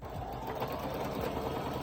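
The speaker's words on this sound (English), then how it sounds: "take it to your sewing machine and do a top stitch" A sewing machine runs a steady top stitch along ruffle fabric, a continuous close whirring hum with rapid needle clatter throughout, no voices.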